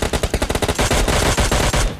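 Rapid automatic gunfire from the video game PUBG Lite cracks in a fast, dense stream of loud close shots, barely pausing before stopping at the end.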